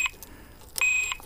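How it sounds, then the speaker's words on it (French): An Abus Granit Detecto X-plus 8077 disc lock alarm gives short, sharp electronic beeps: a few quick chirps, then a sustained piercing tone about a third of a second long, loud and close with no voices. "si je bouge un petit peu, il va se mettre en alarme"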